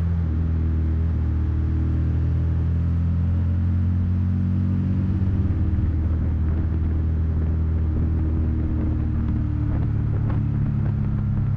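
Suzuki V-Strom 650 motorcycle ridden on the roads of Tenerife: a steady, loud engine drone with a deep rumble and wind noise, holding an even note throughout with no voices.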